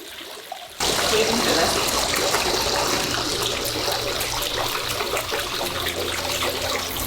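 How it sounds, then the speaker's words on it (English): Water running steadily into a hot spring bathtub in a hotel room, a continuous close splashing rush that starts abruptly after a quiet moment and keeps going at an even level. "We had to fill up the bathtub, which did take a little while"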